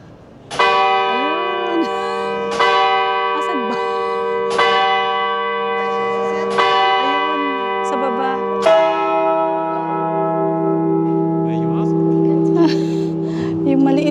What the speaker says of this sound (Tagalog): Hintayin natin na mag-bell siya.